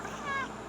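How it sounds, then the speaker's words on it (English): A house cat gives a single short meow, close and clear against a faint background hum. "That's my cat, guys."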